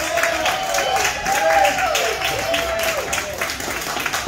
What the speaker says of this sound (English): first let's give him a round of applause